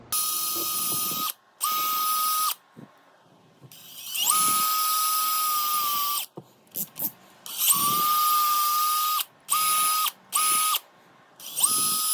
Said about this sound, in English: Let's drill these holes out.